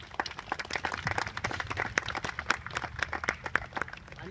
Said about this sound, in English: we owe them a round of applause today for their hard work